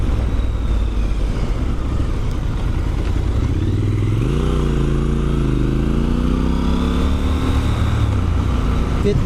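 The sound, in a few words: Triumph Scrambler 1200 XC motorcycle triple engine riding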